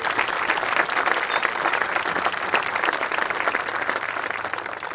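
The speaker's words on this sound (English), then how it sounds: "A big round of applause for all of our staff here this evening." A commencement audience applauds the staff, a dense and steady wash of many hands clapping that keeps a fairly even level for the whole stretch.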